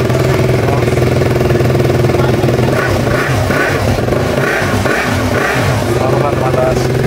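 A KTM Duke 200 motorcycle engine runs steadily at idle, a constant low mechanical drone with no pauses, heard while being checked for a charging problem; a voice talks faintly over it.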